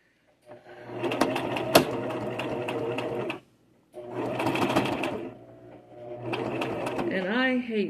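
A sewing machine stitching a zipper into a purse, running in three steady bursts of rapid mechanical clatter separated by short pauses, close by, with a voice speaking at the end.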